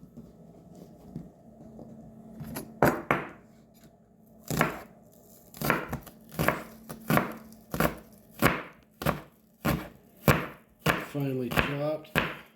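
A knife chops tomatoes on a cutting board in a steady, close run of about a dozen sharp strikes, quickening toward the end, with a brief voice in places.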